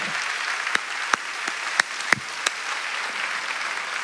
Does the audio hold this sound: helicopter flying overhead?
no